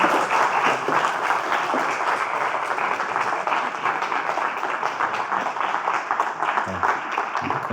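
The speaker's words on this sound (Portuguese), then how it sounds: "uma salva de palmas, por favor." Sustained applause from a crowd welcoming a speaker at a public talk, dense clapping that fills the room steadily from start to finish.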